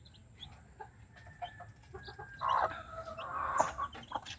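Chickens in a small backyard coop cluck softly and intermittently, with a few louder, longer calls standing out over faint background noise.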